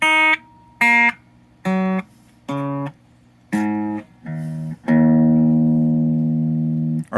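Electric guitar played on its full humbucker through a blackface Champ amp with a 15-watt 12-inch alnico speaker, on a Jet JS300 HSS: several clean picked chords in short separate bursts, ending on one long ringing chord that sustains and slowly decays.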